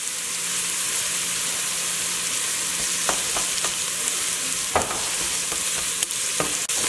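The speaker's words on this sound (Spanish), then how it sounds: "agregando la cebolla. No tiene que estar bien, bien, bien frita" Onion and garlic frying as the base for a seafood soup, a continuous close sizzle broken by scattered sharp clicks and scrapes of stirring, with no talking.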